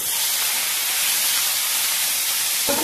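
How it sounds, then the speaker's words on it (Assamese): Dried prawns frying in hot oil, a loud continuous bright sizzle and hiss held steadily for about three seconds, with no talk. "ইয়াতে মই মাছখিনি এতিয়া সুন্দৰকৈ ভাজি ল'ম"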